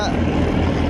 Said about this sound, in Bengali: বোট যাচ্ছে